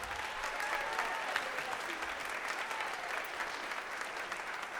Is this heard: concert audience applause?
yes